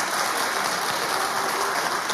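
Studio audience clapping in a sustained, dense wash of applause at steady high volume with no voices over it.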